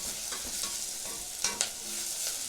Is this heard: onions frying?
yes